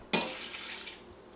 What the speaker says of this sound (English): I need to just throw in some chicken broth and then start it simmering.